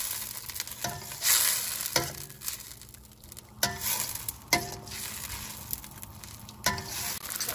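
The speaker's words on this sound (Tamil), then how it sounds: "2 தக்காளி போட்டுருக்கேன். அது கொஞ்சம் நேரம் வேகட்டும்." Two tomatoes cook in a pan for protein-packed sambar rice, giving a close, continuous sizzle punctuated by several sharp scraping strokes of a spoon stirring against the pan, with no talking.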